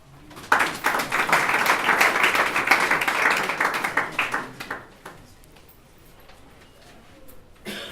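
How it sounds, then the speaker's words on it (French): Small audience at a foundation presentation breaking into applause, a few seconds of clapping that builds quickly, holds, then thins into scattered claps and fades into quiet. "On peut applaudir quand même"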